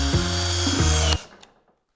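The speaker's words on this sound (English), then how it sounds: "let's first of all drill these out" A power drill whirs loudly up close, its pitch shifting as it bites into metal while drilling out rivet nuts on the rear of a Ford Fiesta ST, then cuts off abruptly after about a second.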